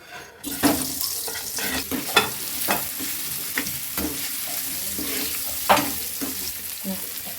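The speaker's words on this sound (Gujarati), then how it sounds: "હવે પનીરને આપણે ફ્રાય કરી લઈશું। તેલ ગરમ થઈ ગયું છે।" Paneer cubes frying in hot oil in a pan, a steady close sizzle broken by sharp scraping bursts as the pieces are stirred and turned, with no voices present.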